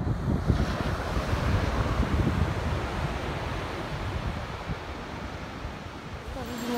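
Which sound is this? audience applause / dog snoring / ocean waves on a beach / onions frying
ocean waves on a beach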